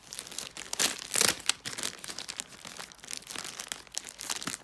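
Plastic bag crinkling and rustling as it is handled while unpacking an Incase Compact Sleeve for a MacBook Pro, continuous close crackling with louder crumples, no talk.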